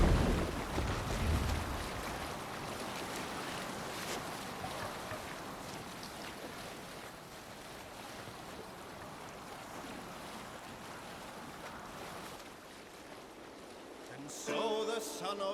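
A sailing ship crossing ocean waves in Assassin's Creed Valhalla's Wrath of the Druids, with steady rushing water and wind noise throughout, a low thump at the start and a short voice near the end.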